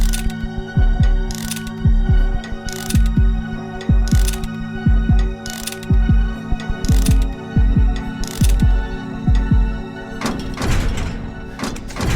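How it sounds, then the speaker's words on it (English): Steady thumping heartbeat beats from a Scratch-made FNaF fan game minigame, repeating in an even rhythm of double thuds over a mechanical whirring background for the whole stretch, with a louder clattering burst near the end. "a heartbeat minigame starts, where you have to press space in the rhythm of your heartbeat"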